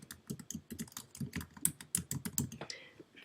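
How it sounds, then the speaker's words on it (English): Fingers type an email address on a computer keyboard, producing a quick, uneven run of close, crisp key clicks with short pauses between bursts. "I'll go ahead and type in my other email."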